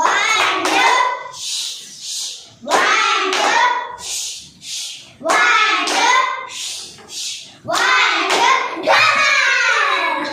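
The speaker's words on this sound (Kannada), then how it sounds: "ಮಕ್ಕಳು ನಿಮಗೆ ರಾಕೆಟ್ ಚಪ್ಪಾಳೆ ಹೇಳೋದು ಹಾಕೋದನ್ನು ಹೇಳ್ಕೊಟ್ಟಿದ್ದೀನಲ್ಲ ಒಂದ್ಸರಿ ಹಾಕಿ ನೋಡೋಣ ಎಲ್ಲರೂ" Schoolchildren in a classroom perform a rhythmic 'rocket clap', several bursts of group clapping building in pace, each round separated by children chanting in unison.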